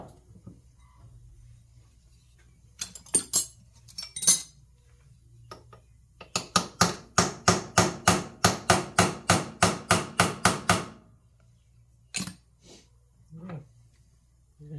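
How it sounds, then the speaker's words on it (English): A hammer taps a part clamped in a vise: a few separate knocks, then a fast, even run of about eighteen ringing metallic taps, followed by one last strike. "Let me set this up here in my vise real quick and tap this down."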